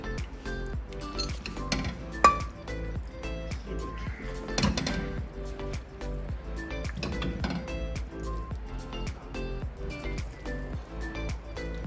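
Metal utensils clink and scrape against a pot and plate while eggplant potato curry is served, a steady run of close, bright taps and clatters with one sharper knock, and no voices.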